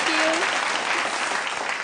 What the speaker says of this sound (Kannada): ಅದಕ್ಕೊಂದು ಚಪ್ಪಾಳೆ.